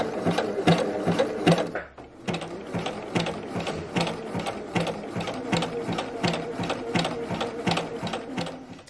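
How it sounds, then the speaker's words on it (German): A sewing machine runs a zigzag stitch along the hem of shirt fabric, with close, steady rapid clattering in even bursts and a brief pause near the start. "Und ich nähe jetzt einfach mal meinen Zickzack-Stich."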